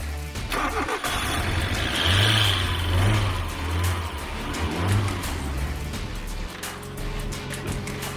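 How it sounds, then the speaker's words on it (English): A Mazda Miata engine turns over and runs after a fuel pump replacement, revving up and down a few times before settling into a rough idle, heard up close. "It was nice to hear the car running again"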